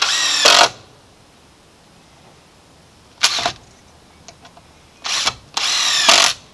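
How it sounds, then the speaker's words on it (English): Cordless power drill driving screws into a wooden post and crosspiece while building a poultry and quail watering setup, with four short loud whirring bursts separated by quiet pauses and a few faint ticks in between. "I'm going to put two screws into my post and the other two screws into my cross section here."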